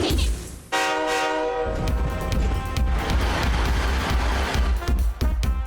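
A cartoon train rattles and chugs along steadily, opening with a loud sustained horn blast over the rhythmic clatter of wheels on rails, bright and up close, with no one speaking.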